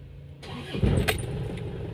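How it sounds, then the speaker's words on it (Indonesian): A car engine cranks and catches, then settles into a steady idle, close and fairly loud with no talking, after the gear was engaged in a manual car that has trouble going into gear with the engine running. "Kemudian kita hidupkan lagi mesinnya."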